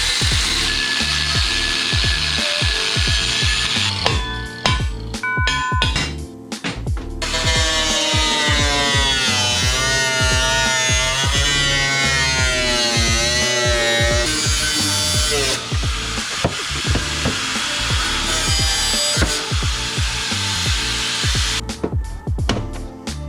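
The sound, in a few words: grinder cutting brackets on a Suzuki Vitara axle swap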